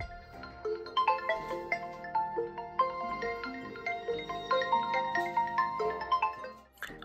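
An incoming-call ringtone plays on an Oppo A15s phone, a bright melodic tune of repeated chiming notes that carries on steadily for several seconds with no talking over it.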